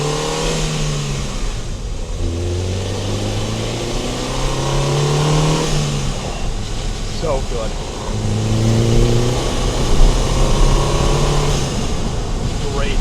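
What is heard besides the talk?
turbo car engine revving, blow-off valve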